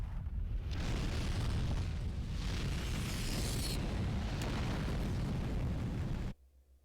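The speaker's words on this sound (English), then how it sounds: "Why are things exploderating?" Loud, sustained explosions roar continuously with broadband rumble and crackling bursts for about six seconds, then cut off abruptly to near silence.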